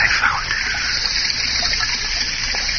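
Fountain water playing steadily in a radio drama effect, a continuous close splashing rush that holds even and unbroken throughout.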